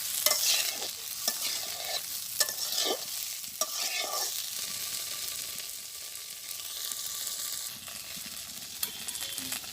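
Eggplant frying in a pan in a Bangladeshi village kitchen, stirred with steady scraping strokes over a continuous sizzle, close and fairly loud, with no talking.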